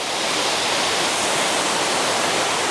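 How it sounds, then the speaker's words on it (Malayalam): Blapila waterfall in Chengara, a dense, constant roar of falling water filling the whole clip, loud and close with no talk. "ഇന്നു മുതൽ ഇതാണ് ബ്ലാപ്പിലെ വെള്ളച്ചാട്ടമായി അറിയപ്പെടാൻ പോകുന്നത്"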